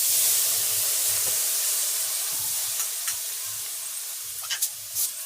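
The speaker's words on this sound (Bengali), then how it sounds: "এবার কড়াইয়ে দেব সামান্য একটু জল।" A little water poured into a hot iron wok over a clay stove hisses and sizzles steadily, a loud bright steam rush that slowly eases, with a few faint scrapes and clinks toward the end.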